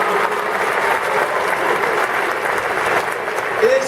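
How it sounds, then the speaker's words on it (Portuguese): A church congregation at a national missions congress claps loudly and continuously for a speaker, a dense, even roar of applause with crowd noise mixed in, holding steady throughout. "Pode recebê-lo aplaudindo o Senhor."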